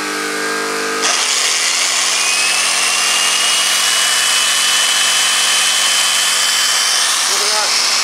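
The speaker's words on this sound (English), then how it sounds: "Let's drill." An electric drill starts up abruptly and runs loud and steady, powered through an inverter in an off-grid setup alongside a fan, with a brief voice near the end.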